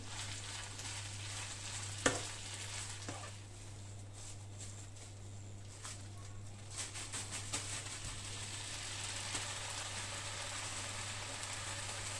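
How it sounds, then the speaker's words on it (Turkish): Mushrooms, partly pre-roasted and foraged from the forest, fry in a pan with olive oil, ginger and garlic, giving a steady quiet sizzle with a low hum beneath and a couple of sharp clatters near the start. "Mantarımı da biraz daha biraz kavuracağım."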